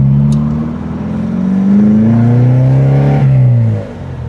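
A Porsche 914 with a 2.0 engine pulls hard in first gear, its loud, close engine note climbing steadily in pitch as revs rise, then dropping off sharply near the end as the throttle lifts.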